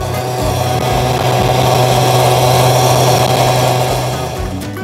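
Puch Maxi moped engine with an open 38 mm exhaust, running loud and steady close by, a continuous buzzing drone with a slight dip near the end.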